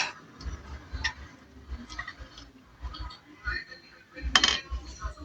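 Metal parts of a Kawasaki NS150 motorcycle engine knock and clink as the engine block is set in place during a refresh, with scattered light taps and one sharper clank near the end, soft and close.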